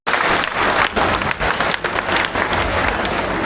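A large crowd at an INLD–BSP alliance political rally in Narwana applauds loudly and continuously, a dense, sustained roar of clapping with only faint voices underneath.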